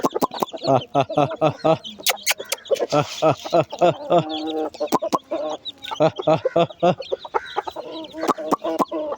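Hens cluck repeatedly in short, close bursts, with someone talking over the sounds throughout.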